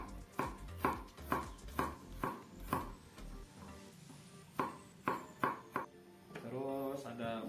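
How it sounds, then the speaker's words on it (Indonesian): A knife slices garlic thinly on a cutting board for pizza, giving a run of evenly spaced sharp taps, a short pause and then a few more taps, close and fairly quiet. "Dan bawang putih, iris tipis-tipis."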